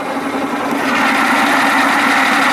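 A 1987 Johnson 70 hp outboard motor runs in gear with no throttle in shallow water, a steady close engine drone that grows a little louder partway through, with no voices.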